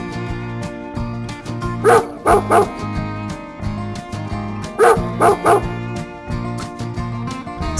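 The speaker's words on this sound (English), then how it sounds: "Dog, dog" A dog yips and barks in two quick groups of three over steady, looping music that runs underneath throughout.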